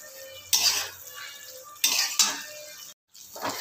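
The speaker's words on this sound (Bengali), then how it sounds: "এবার আমি ভেজে রাখা পটলগুলো অ্যাড করে দিচ্ছি, আলুর সঙ্গে আমি আবার একটু কষিয়ে নেব।" Pre-fried pointed gourd and potatoes are sautéed with spices in a pan, a faint sizzle broken by a few sharp scrapes and clanks of a spoon against metal, close and with no voices.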